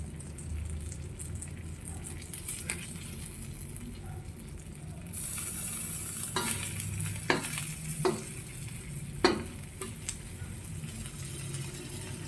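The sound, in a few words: stir-frying red and brown rice in pan oil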